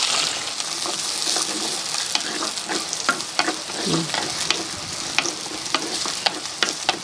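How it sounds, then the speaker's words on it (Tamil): Shallots, onion, garlic, mustard seeds, cumin and fenugreek sautéing in a clay pot over a wood fire, a loud, continuous close sizzle broken by frequent sharp crackles and stirring scrapes. "வதங்கட்டும்"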